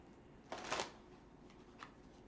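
Tarot cards riffled in a quick, soft burst, followed by a lighter flick a moment later, close and quiet.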